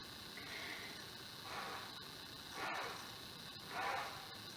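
Breath blown through a flute head joint tube, heard as soft hissing air in four gentle swells of rising and falling rushing noise, steady and close with no talk.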